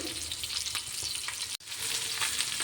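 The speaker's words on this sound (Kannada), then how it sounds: "ಇದೀಗ ಫ್ರೈ ಆಗ್ತಾ ಇರಲಿ" Bangude mackerel fish fry in oil in a pan, a loud dense crackling sizzle that breaks off for an instant midway, then carries on just as strong.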